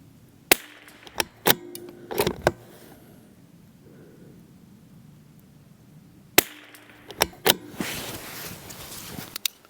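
Rifle shots from a CZ 457 Varmint MTR at an outdoor range by the woods, sharp cracks fired singly and in quick clusters with quiet gaps between, the reports echoing briefly after each shot.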